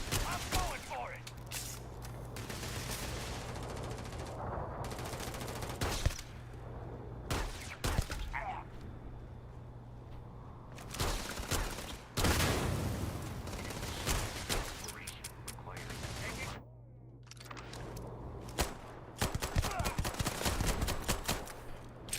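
Enemy gunfire crackles through a Starfield firefight, dense bursts of shots repeating over the whole stretch with brief gaps, loud and close, mixed with other game sounds.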